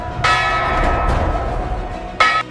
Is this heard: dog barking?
no